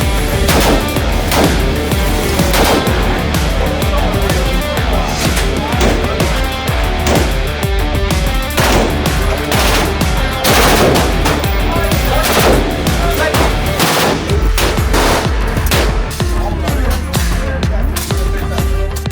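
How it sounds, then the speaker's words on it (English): Loud, rapid bursts of gunfire from an M5, AK-47, Uzi and M4 at a shooting range, close and dense with overlapping automatic volleys, with voices mixed in. "So we shot 4 different weapons. We shot M5, AK-47, Uzi, and I believe an M4 as well."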